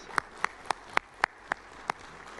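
Several crisp, distinct handclaps at a Silver Circle induction ceremony for a TV news reporter, spaced in a steady, fairly quick rhythm, faint and close, with no voices over them.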